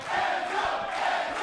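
An NXT wrestling arena crowd cheers for Enzo Amore, a steady broad roar of many voices with no single speaker standing out, moderately loud throughout.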